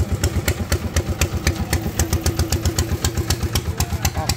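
Tuned engine of a Thai Itan farm vehicle with a performance cam, revving loud and close in a fast steady chugging pulse with sharp mechanical clatter.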